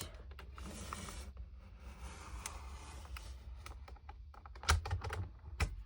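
Scissors cut through paper for a quilt block, making quiet scraping snips and a few sharper clicks close by, fairly steady, with no talking.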